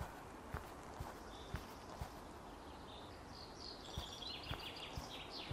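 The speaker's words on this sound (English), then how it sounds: "Birds." Birds chirp faintly in the Sally Face video game, a cluster of small high tweets near the end layered over soft, evenly spaced footstep clops and low ambient hiss.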